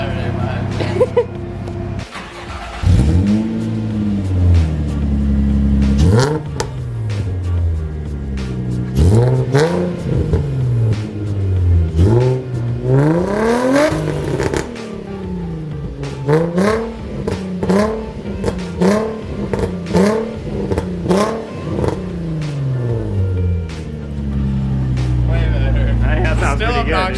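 Nissan 350Z exhaust revving in repeated rising and falling sweeps, loud and close, with short pauses between pulls and a steady idle between blips; no talk over it.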